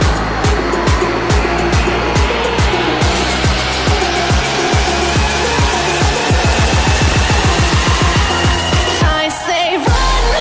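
Drifting car in the video game FURIDASHI Drift Cyber, loud engine revving in rapid repeated gear-like pulses with a continuous hiss of sliding tires, steady throughout and briefly cutting out near the end.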